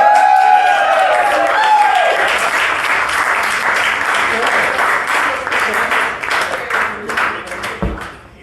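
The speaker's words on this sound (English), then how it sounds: "Get the applause going!" Sustained loud applause from a crowd, dense and continuous, with voices mixed in, gradually thinning out toward the end.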